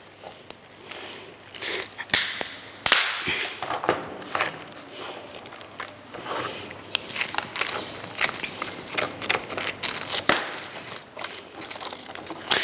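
Frozen lobster shell being cut through: close, irregular crackling and crunching snaps that come in uneven bursts, some sharp and loud, with no talking.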